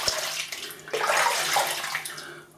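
Running water splashing over hands being rinsed, a steady close rush that swells and shifts as the hands move through the stream, then thins toward the end.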